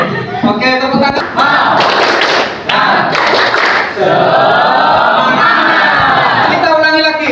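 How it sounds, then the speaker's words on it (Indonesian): A classroom group of students claps hands together in a dense, loud burst that fills most of the stretch, with brief chanted voices and a teacher speaking at the edges. "tepuk tangan"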